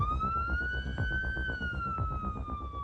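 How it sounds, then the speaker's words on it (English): A loud wailing ambulance siren sweeping slowly in pitch, with a rhythmic rumble of the moving ambulance underneath, passing close. "Ambulance and siren."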